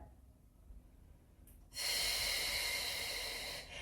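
A loud, steady exhalation during a Pilates hip and core exercise, following a quieter stretch, breathy and close, lasting about two seconds before easing off.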